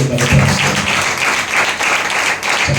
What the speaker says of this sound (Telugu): ఒక్కసారి చప్పట్లు కొడితే